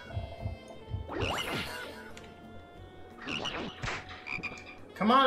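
Croaking frogs in the video game Dragon Ball Online, several raspy croak bursts spaced across the stretch over a steady game ambience, with a sharp louder croak near the end.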